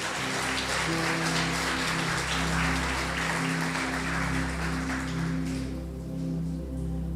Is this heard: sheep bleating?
no